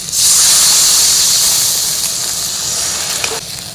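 Water poured into a hot pan of well-fried fish and potatoes gives a loud, steady steaming hiss that holds for several seconds, fading slightly near the end.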